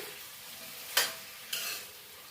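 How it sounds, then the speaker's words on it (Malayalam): Yam curry (chena erissery) is stirred in a pan, giving two brief close scraping sizzles over quiet background hiss. "ഇനി ഒന്ന് ഇളക്കാം"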